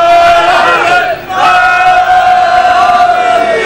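A majlis crowd chants "Haidari" loudly in unison, sustained voices in a close, roaring response. A short pause comes before a second long chant.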